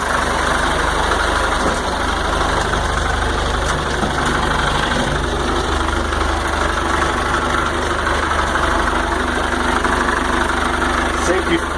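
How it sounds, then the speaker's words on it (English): John Deere 2630 loader tractor built as a rat rod, its engine idling at a steady, loud, continuous rumble with a rough, knocking vibration throughout. "Rat rod loader tractor."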